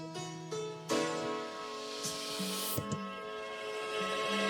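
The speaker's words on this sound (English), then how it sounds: "for the intro, we just got the classic reverse crash going into the beat." A reverse crash cymbal swells into an FL Studio beat intro, rising hiss over a steady tonal pattern with several sharp hits, fairly quiet and without talk.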